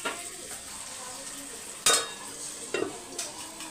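Potato masala stirred in a pan, gentle sizzling under a few sharp scrapes and clinks of the spoon against the metal, close up, no speech.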